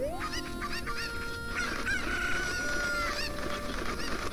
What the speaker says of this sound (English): I need to throw that chicken over the edge.